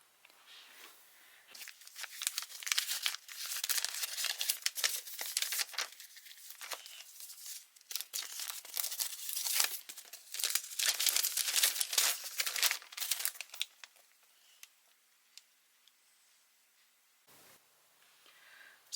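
Sewing interfacing handled and crinkled, a long stretch of dense papery rustling and crackling that rises and falls, close up, fading near the end with a few last crinkles.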